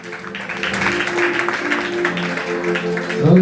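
A church congregation at a Sunday service claps together for Jesus, a steady, dense patter of many hands heard over musical tones and voices.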